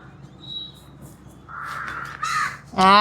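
Crows cawing near a house with a newly roofed shed, a few hoarse caws, the last bursts loud and close, rising out of a quiet outdoor background.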